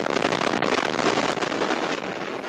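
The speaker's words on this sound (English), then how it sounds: "The UPS cargo plane crashing into two businesses, creating a catastrophic explosion." A UPS cargo plane crashes into two businesses and explodes in a catastrophic blast, heard as a loud, sustained broadband roar that holds steady for the whole stretch with no pauses.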